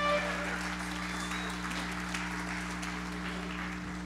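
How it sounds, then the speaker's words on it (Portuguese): Applause rises from a church congregation at an anniversary worship service in Paracatu, a steady wash of clapping under a constant low hum, fairly even throughout without a clear end. "Aplauda aí, Paracatu."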